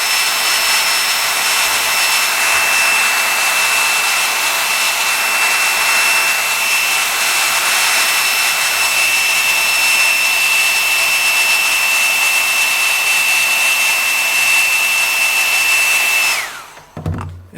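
A hot air blower heats a hat brim to reshape it, making a loud, steady rushing whine with a high tonal edge that runs unbroken, then cuts off abruptly near the end, followed by brief handling noise.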